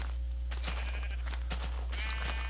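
Sheep in Minecraft bleat a few times in quick succession, moderately loud over a constant low hum, with sharp clicky bursts between the calls.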